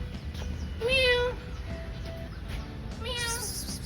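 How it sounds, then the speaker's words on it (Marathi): At a zoo in Pune, a wild cat resembling a Persian cat gives two clear meows about two seconds apart, the first louder and longer, over a steady background hum. "ही अशी जंगली खतरनाक मांजर आहे"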